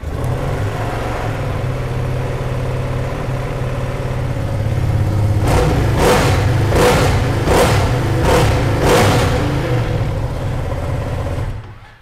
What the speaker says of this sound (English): so let's fire this one up and have a listen